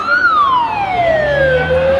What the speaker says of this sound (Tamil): கொஞ்சம் அந்த ஆம்புலன்ஸ் வழி விடுங்க